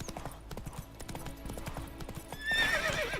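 Hooves of the horse Roach clip-clop at a steady gallop in the video game The Witcher 3: Wild Hunt, with a whinny near the end.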